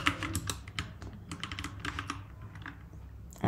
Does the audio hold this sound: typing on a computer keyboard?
yes